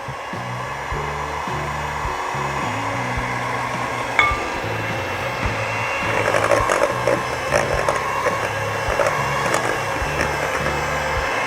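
Electric hand mixer beating brownie batter for steamed brownie buns, a steady motor whir with a rattling beater texture running continuously throughout, fairly loud and close, with a brief clink partway through.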